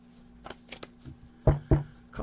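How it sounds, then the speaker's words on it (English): Tarot cards being shuffled by hand: a few soft riffling bursts, then two louder close shuffles with a brief pause between them, ending in a quieter rustle. "A couple more shuffles."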